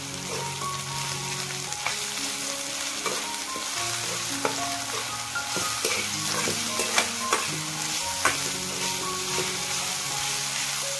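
Village-style egg curry masala frying in a pan, a steady loud sizzle with irregular scraping and clinking of a spoon stirring throughout, no talking.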